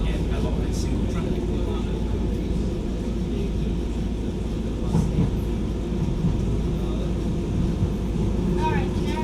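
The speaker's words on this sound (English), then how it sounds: "I see another DLR train arriving from Lambton Park to Devon's Road." A Docklands Light Railway train rolls along in London, a continuous low rumble and hum heard from on board, with faint squeals and clunks near the end.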